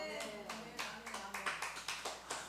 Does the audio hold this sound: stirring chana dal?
no